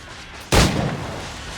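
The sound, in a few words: gunshot from the video game Assassin's Creed IV: Black Flag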